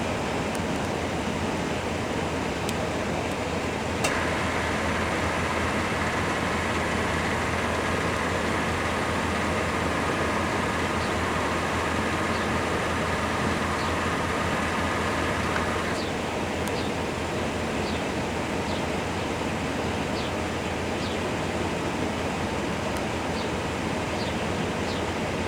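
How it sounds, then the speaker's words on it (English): The AC compressor on a 1997 GMC Savana van runs during a refrigerant recharge, a steady, loud whirring drone with a running engine underneath and faint periodic clicks, with no talking. "Compressor's running a little bit longer, looks like."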